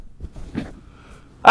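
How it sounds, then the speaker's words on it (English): After a few quiet, faint sounds, one sharp, loud sneeze bursts out at the very end, during a live TV broadcast. "I have to sneeze, hold on one second."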